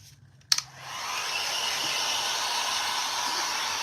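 A hair dryer clicks on and blows a steady, loud, close whooshing hiss while drying a craft picture frame being upcycled.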